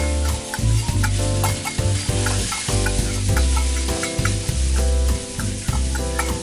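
Chopped onion and curry leaves sauté in hot oil in a kadhai, a loud, steady sizzle with rhythmic scraping and stirring strokes throughout, close up with no talking.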